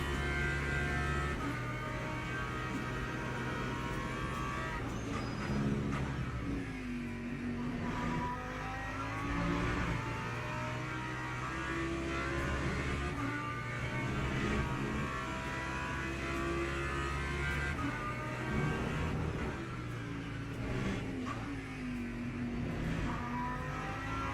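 Ferrari race car engine in a racing video game, a continuous loud mid-pitched engine drone with rising and falling pitch sweeps as it accelerates and shifts, sustained the whole time with no talk.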